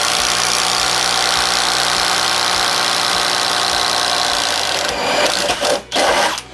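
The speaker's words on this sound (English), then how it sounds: "now we're moving up to a Bosch Daredevil 3/4 inch spattle bit. We're just gonna do a single hole here." Bosch Freak impact driver boring with a 3/4 inch Bosch Daredevil spade bit, a loud continuous high-pitched whine with rapid hammering, then sputtering and stopping near the end.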